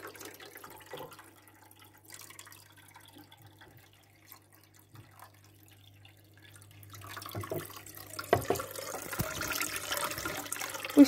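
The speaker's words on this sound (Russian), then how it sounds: "Пусть течет вода." Aquarium water draining and trickling during a tank water change, faint and steady at first, then growing into a louder rushing flow toward the end.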